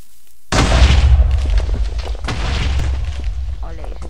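A Minecraft TNT cannon fires with a sudden loud boom that rolls into a long, rumbling explosion and crackling debris before fading slightly; no one speaks.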